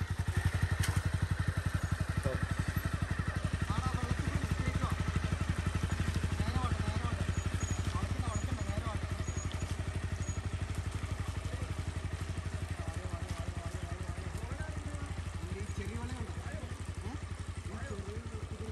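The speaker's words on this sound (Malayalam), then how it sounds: "ഓ ക്രക്സിന്റെ എഞ്ചിൻ ഇപ്പോഴും എന്ത് റിഫൈൻഡ് ആണല്ലേ" A Yamaha Crux motorcycle engine runs steadily on an off-road forest ride, a continuous low idle rumble throughout with occasional clatter, under people talking.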